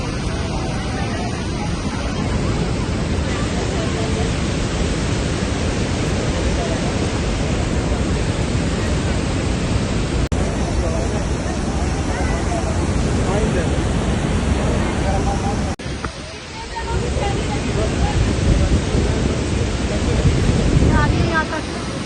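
The constant, broadband roar of Niagara Falls, heard up close as a dense wall of rushing water and wind buffeting the microphone, with voices faintly mixed in.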